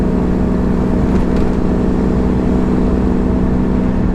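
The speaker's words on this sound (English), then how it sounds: "I've got the window open for the sound of the exhaust." A loud, constant engine rumble with exhaust drone from a Foden truck with a Cummins engine on the move, heard through an open window, steady and unbroken throughout.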